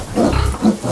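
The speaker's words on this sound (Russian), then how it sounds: "Значит, свиноматка." A sow on a farm gives a few close, low, throaty grunts in quick succession, loud and near with a short pause between, no talk over it.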